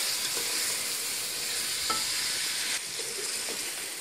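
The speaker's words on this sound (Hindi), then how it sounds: "5 मिनट के लिए इसको कर लूँगी इसको फ्राई।" Mutton pieces fry with white cardamom in a pan, a continuous close sizzle with a few soft stirring scrapes and no talk.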